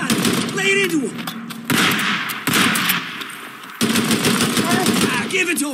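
Gunfire in the video game Days Gone, loud close bursts of rapid automatic fire and single shots in several clusters, mixed with shouted voices during the fight.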